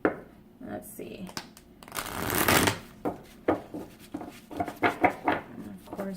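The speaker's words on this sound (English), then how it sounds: "I'm going to take a little bit longer to just shuffle the cards" Cards being shuffled up close, a riffling burst followed by several quick snapping shuffles, with a faint voice in the background.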